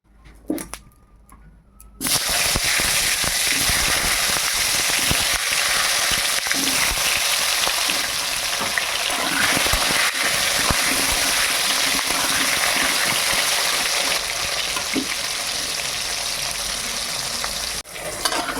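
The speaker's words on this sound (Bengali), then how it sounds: "চলুন এবারে আমি আলু পটলটা ভেজে নেব" Pointed gourd and potato pieces sizzle steadily in hot oil in a kadai, a loud continuous frying hiss that bursts in after a quiet start and holds for the rest of the clip.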